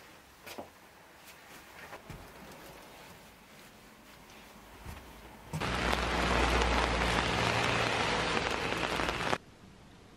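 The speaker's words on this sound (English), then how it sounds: "It's raining every single Friday." Rain falling outside a house on a Friday, soft patter at first, then a sudden loud, dense downpour that roars steadily for several seconds before cutting off.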